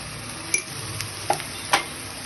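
Onion and spice paste of ground onion, coriander, cumin, turmeric, chili and ginger-garlic-green chili paste sautéing in a pan, with a soft steady sizzle and a few brief scrapes of a stirring spoon.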